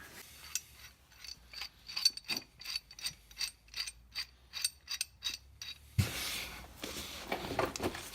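Close ratcheting clicks as a pipe wrench is adjusted at a car's tie rod during a DIY toe alignment, a series of quick metallic ticks followed by rougher scraping and rubbing.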